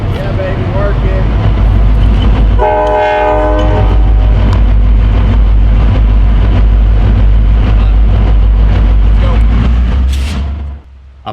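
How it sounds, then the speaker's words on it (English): South Shore Line train entering yard limits at East Chicago, Indiana, sounding a loud sustained horn blast over a steady, heavy rumble of rolling cars that continues close by throughout. "At East Chicago, Indiana, we observed the train entering yard limits."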